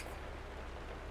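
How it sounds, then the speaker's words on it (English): Steady faint rain hiss in a driving game at Spanish Dock, an even wash of noise with no distinct drops or other sounds. "And it's raining."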